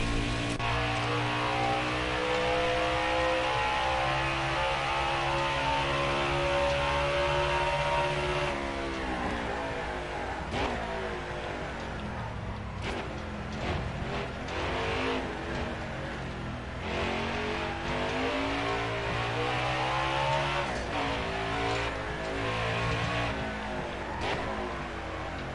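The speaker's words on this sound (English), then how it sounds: "let's do a little crank it up right now and take a lap in virtual Indy Road Course" A race car engine screams around the virtual Indy Road Course in a racing game, holding a high, steady whine before dropping through downshifts into a choppier, rising and falling snarl, loud and continuous with no talking.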